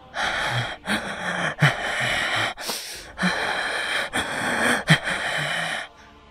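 Ragged, wheezing gasps for breath from someone hurt after a violent attack, loud and close, the strained inhalations and exhalations repeating in uneven bursts with short pauses between them.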